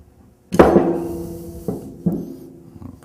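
A wrench breaking loose the fitting on an H2O Jet bleed down valve: one sharp, close metallic clunk that rings briefly, then two lighter knocks as the fitting shifts, with no talking.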